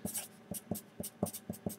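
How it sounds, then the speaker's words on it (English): A pen scratches on paper in short, evenly spaced strokes, about eight quick scribbles in under two seconds, close and fairly quiet with no voice. "let's write this down."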